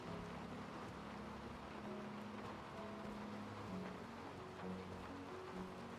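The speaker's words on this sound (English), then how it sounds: "we need to go somewhere it's not raining" Steady, soft rain falls in the video game Skyrim, a continuous wash of drizzle with a faint low rumble, heard at a distance and without talk.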